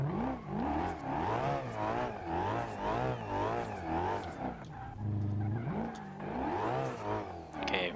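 A car engine screams and revs continuously in BeamNG with nitrous boost engaged, pitch sweeping up and down in repeated waves while tires squeal through drifting, loud and close throughout.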